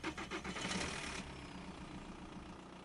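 An engine cranks and catches, rough rhythmic turning at first that settles into a steady low idle, fairly faint and distant at night.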